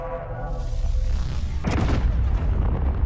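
Railgun turret in Space Engineers fires with a single loud booming discharge midway, preceded by a low rumbling hum and followed by a sustained roar.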